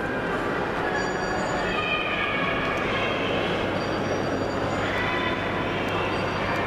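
A small steam locomotive at the National Railway Museum rumbles steadily nearby, with faint metallic squeals and tones drifting over the continuous rolling noise.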